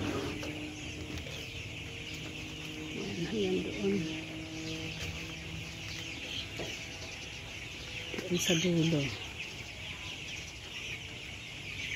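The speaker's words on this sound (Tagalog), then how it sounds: "Ayan ang manok guys." Chickens cluck and call on a large poultry farm housing thousands of birds, a steady chorus with a few louder bursts, while a person talks over it.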